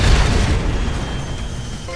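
A dense, rumbling explosion blast from targets being destroyed in the Cars 2 video game, a sustained low boom that fills the two seconds and slowly fades.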